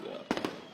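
Fireworks bursting at the opening ceremony of Building Expo 2022 in Guyana, two or three sharp pops in quick succession, moderately distant and fairly faint.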